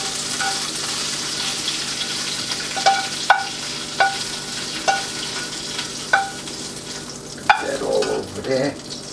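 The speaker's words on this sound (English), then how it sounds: "So let me brown this up, and we'll go on to the next sausage." Sausage browns in a frying pan under a constant close sizzle, while a utensil scrapes and taps the pan a handful of times at spaced intervals.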